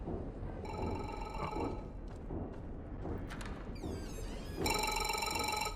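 A game telephone rings in MOLE with two bursts of repeated electronic bell trills, separated by a gap filled with clattering and low background noise; a short vocal exclamation is heard.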